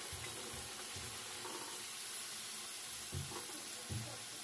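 Thick potato pieces fry in a pan with a steady close sizzle, interrupted by a few soft low knocks and stirring sounds.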